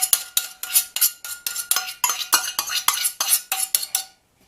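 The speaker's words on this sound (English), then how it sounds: "And in goes the tomato ketchup" Tomato ketchup is worked into barbecue sauce in a pot with a utensil, making a quick, even run of about a dozen scraping stirs against the pot, close and clear, before it stops.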